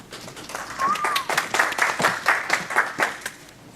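Audience applause in a conference hall as a urologist is welcomed to speak on sexuality and aging, steady clapping lasting several seconds with a voice faintly over it.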